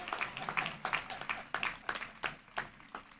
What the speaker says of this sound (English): What a round of applause for the dean who read all of your names